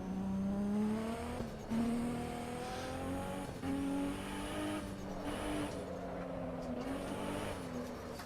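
A car's engine drones and revs continuously in the Assetto Corsa Evo racing game as it slides through a drift, steady and loud throughout with shifting pitch and brief dips, and no talking.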